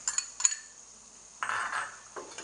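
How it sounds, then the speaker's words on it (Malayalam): Fish curry with curry leaves being mixed in a large pan, short scraping and clinking bursts of a spoon against the pan, brief and moderately close with quiet gaps between. "അതും കൂടി നന്നായിട്ട് മിക്സ് ചെയ്യുകയാണ്, എല്ലാം കൂടെ മിക്സ് ചെയ്യുകയാണ്"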